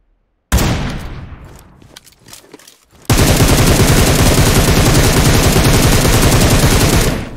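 Gunfire in PUBG Mobile: an opening loud shot with echoing tail and a few scattered cracks, then a long, loud burst of rapid automatic fire hammering steadily for over four seconds before stopping.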